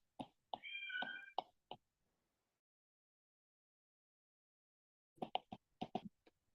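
A domestic cat gives a faint, brief meow indoors amid a few short soft sounds, then after a long silence a cluster of quiet, clipped noises follows.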